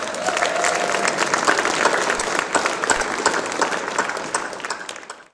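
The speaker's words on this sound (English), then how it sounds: "we probably need to clap for Joel and Libby also" Crowd claps for two storytellers at a featured tellers event, a full burst of applause with a faint voice early on, fading out abruptly at the close.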